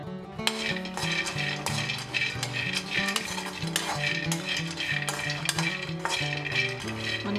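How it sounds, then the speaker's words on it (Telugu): Peanuts dry-roasting without oil in a pan, a steady, busy rattle and scrape of nuts and a spatula stirring continuously, close and even in loudness throughout. "అదే బాండీలో పల్లీలు వేసి వేయించుకుందాం."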